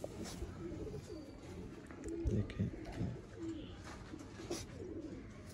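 Soft, low cooing from breeding pairs of pigeons repeats in short bursts, fairly close, with a person briefly speaking over the birds.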